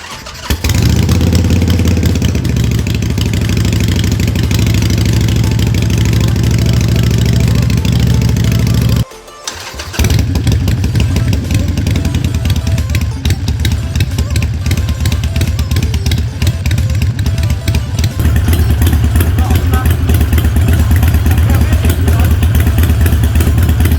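A Harley-Davidson motorcycle engine after ECU tuning, loud and close: it starts and idles with a deep, throbbing rumble, cuts out briefly near the middle, then restarts and runs steadily to the end.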